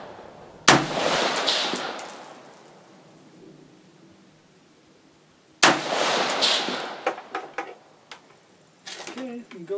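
Two sharp, loud gunshots from a 5.56 AR-15 rifle at an outdoor target range with 200-yard targets, several seconds apart, each followed by a long rumbling echo, with lighter knocks and handling noise afterward.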